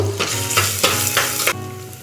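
Ghee with cumin, a bay leaf and grated ginger frying in a pressure cooker: a loud close sizzle with several quick stirring scrapes, then a steadier crackle, no voices.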